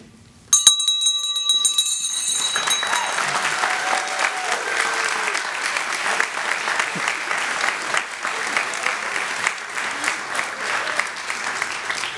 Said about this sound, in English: it is time to ring the final bell